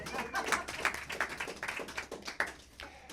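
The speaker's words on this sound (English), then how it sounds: "So give yourself a round of applause" Audience at an in-person author talk giving itself a round of applause, a small group clapping unevenly and fairly faintly in a room, with scattered individual claps standing out.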